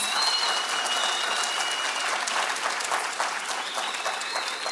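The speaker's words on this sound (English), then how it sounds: "Can I hear the round of applause from yourselves about the lecture?" Students at an annual Africa Day lecture give a sustained round of applause, a dense, steady wash of many hands clapping throughout with a faint crowd murmur beneath.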